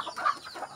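Pet chickens cluck softly in a short, close burst of a few broken notes, with no voices.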